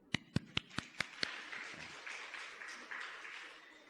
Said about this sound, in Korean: 자, 이분들께 박수